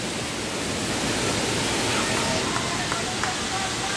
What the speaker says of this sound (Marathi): कंडाट जंगल आणि बघा इकडे धबधबा.